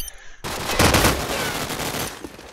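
Rapid SMG fire in a video game during a LAN tournament match, bursting in abruptly after a quiet moment and then rattling on as a dense, loud, sustained volley of shots.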